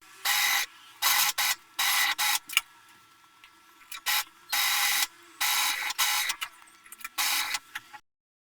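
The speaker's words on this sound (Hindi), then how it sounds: "अब मैं इधर सिलाई करूंगी" A sewing machine stitching a dress neckline, running in short bursts of rapid whirring stitches separated by brief pauses, close and clear with no talk.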